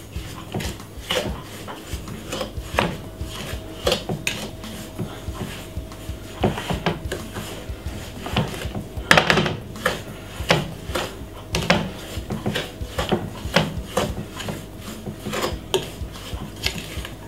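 Butter and sugar are creamed by hand with a wooden spoon in a bowl, making irregular knocks, scrapes and clatters against the bowl, close and uneven in rhythm, with occasional louder clunks.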